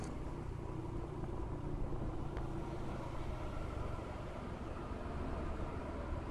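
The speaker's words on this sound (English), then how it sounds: "I found this motorcycle taxi. He's charging me 200 baht to go to Ekamai." Steady engine drone and wind rush of a motorcycle taxi carrying a passenger through Bangkok traffic, a continuous rumbling roar with no pauses or voices.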